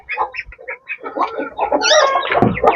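Chickens cluck and squawk up close on a poultry farm, a run of short separate calls building into a busier, louder chorus of overlapping clucks.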